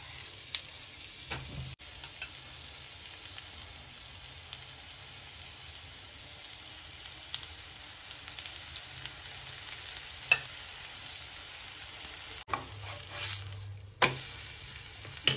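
Steady soft sizzling of bhajani thalipeeth frying in ghee on a hot griddle, continuous and close, with a few brief scraping and clinking sounds.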